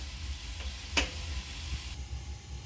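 Mixed vegetables frying in a pan for a restaurant-style mix veg dish, a steady close sizzle with a single stir or clink of the utensil, no talking.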